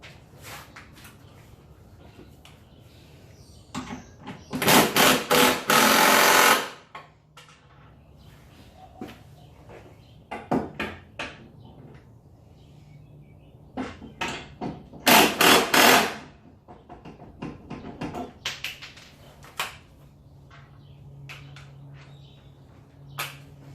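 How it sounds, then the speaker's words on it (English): Tightening running board body mounts under a 1999-2006 Chevy/GMC truck, with sharp metallic clicks and knocks, two long bursts of rapid ratcheting or power-tool buzzing, and scattered taps in between, close by. "I'm gonna tighten up the body mounts, the actual mounts that hold the steps to the bottom"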